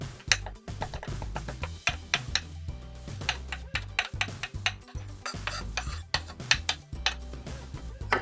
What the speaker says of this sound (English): I just come through here, just give it a little chop.